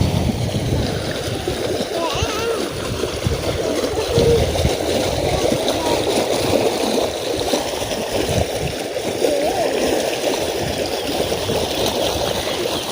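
Water flows and splashes steadily through irrigated rice paddies on the way to a temple site in Ponorogo, a continuous close, fairly loud wash with a faint voice under it.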